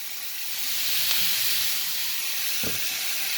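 Red wine vinegar hits a hot pan of onions and sizzles into a steady, loud hiss that fills the whole moment, with a couple of brief sharper spits breaking through close by.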